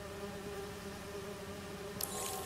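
Bees buzz in Marvel's Spider-Man 2 with a steady, even drone that holds throughout, and a brief brighter rustle rises near the end.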